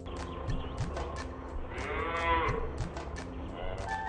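A young calf moos once, fairly close, over a soft background of outdoor noise and faint rustling.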